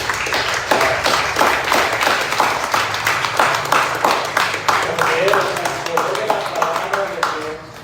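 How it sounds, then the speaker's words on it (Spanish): Congregation applauding in a church after a preacher's call, steady rhythmic clapping filling the room at moderate loudness, with some voices mixed in under it. "¿Sí o no merece un aplauso al Señor por eso?"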